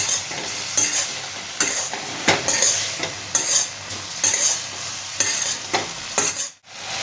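A veg Manchurian is stirred and fried in a pan, with a steady sizzle under repeated scraping and clinking strokes of a spoon against the metal, close and alone with no talk, ending in a brief pause.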